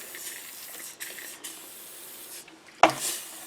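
WD-40 cleaner sprayed onto the plastic and metal parts of a Husqvarna 266 chainsaw being converted to a 272, heard as a steady close hiss running throughout, ending in a sharp click and a brief louder burst near the end.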